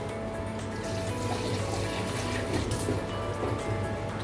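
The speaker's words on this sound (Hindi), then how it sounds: "थोड़ा सा पानी डालूंगी क्योंकि इसके ब्लेंडर में थोड़ा सा प्याज की पेस्ट लगी हुई थी" Water pours into a blender jar to rinse out leftover onion paste for a home-cooked mutton qorma, a steady close splashing and filling sound with no talk over it.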